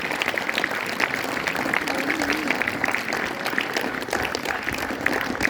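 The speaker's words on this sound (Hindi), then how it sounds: "जोरदार तालियों से उनका अभिवादन करें" Crowd at a Republic Day celebration claps to honour a guest, a loud, continuous wash of applause with a faint voice murmuring underneath.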